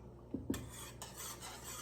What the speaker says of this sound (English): using this metal whisk on this pan